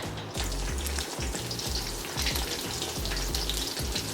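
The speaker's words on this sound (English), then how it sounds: "just frying this until the sides turn nice and crispy" Beef for Mongolian beef frying in a pan until crispy, a steady dense sizzle and crackle of hot oil running continuously and close, with no talking.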